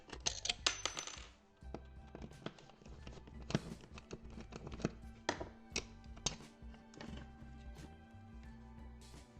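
Screws are backed out of an old electrical wall outlet, producing scattered light metallic taps, clicks and small clattering knocks, close but quiet, with brief pauses between them.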